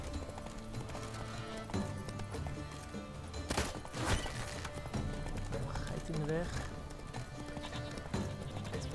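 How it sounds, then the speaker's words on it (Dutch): Horse hooves clip-clopping at a gallop in the video game The Witcher 3, a steady drumming under game music and someone talking, with a brief neigh partway through. "Het onderbreekt wel mijn sprint met dat paard heel erg."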